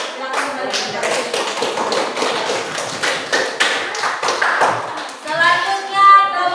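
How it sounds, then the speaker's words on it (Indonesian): Classroom applause after a group presentation: dense, continuous clapping from many hands across the room, moderately loud and steady, with a few voices mixed in toward the end. "Kita berikan tepuk tangan."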